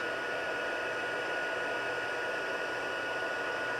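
A heat gun used for card making runs with a steady, close, constant airy blowing roar and a faint thin whine on top, unchanging from start to finish.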